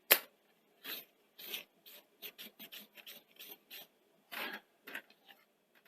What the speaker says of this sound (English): Right, so put these 3 screws in,